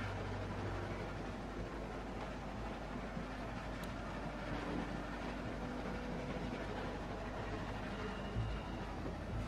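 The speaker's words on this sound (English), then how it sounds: "Stop the train." A train rumbles along in The Walking Dead video game with a continuous, low, steady running noise and faint rail clatter. No talking is heard.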